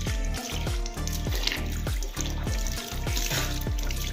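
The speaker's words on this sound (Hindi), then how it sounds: "उससे पहले दोस्तों हाथ धो लेते हैं और फिर आटा गूंथेंगे" Tap water running in a kitchen while hands are washed before kneading dough, a steady close splashing with regular rhythmic pulses.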